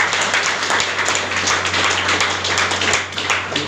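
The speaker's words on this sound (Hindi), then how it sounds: "ललन जी के लिए जोरदार ताली।" Audience applause for Lalan ji at a Sheikhpura event, a loud dense wash of many hands clapping continuously from start to finish with no voices on top.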